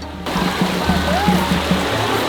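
Flowing stream water at a rocky waterfall at Phu Foi Lom, a steady broadband rush of moderate loudness with a low rumble underneath, continuous throughout.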